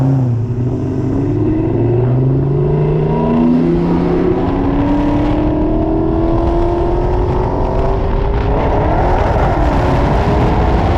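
A 1000hp Dodge Scat Pack with a built motor on nitrous runs a roll race at a Houston event, its engine roaring loud and rising steadily in pitch through the gears as it accelerates hard, with another engine's drone underneath.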